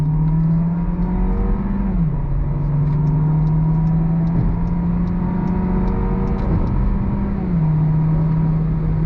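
A 2022 VW Jetta accelerates under throttle, its engine droning loudly and steadily with a pitch that rises, drops as the 8-speed transmission shifts, then climbs again, with one more shift near the end.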